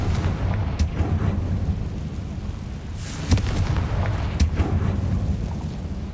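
A Confringo blasting spell detonates in Hogwarts Legacy, a dull rumbling boom set against a steady low game ambience, with a sharper burst near the middle and another crack soon after.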